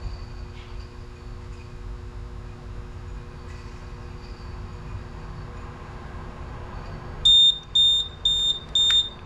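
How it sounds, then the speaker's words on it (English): Smoke detector in a plant room sounding a series of short, loud, high electronic beeps near the end, over steady mechanical room hum. "But the alarm, check that smoke detector"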